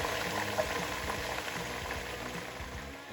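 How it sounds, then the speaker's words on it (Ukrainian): Steady crackling sizzle of potato fries frying in hot oil, a dense continuous hiss with small pops throughout, fairly close and moderate in volume. "І ось воно, диво, картопля нарешті смажиться."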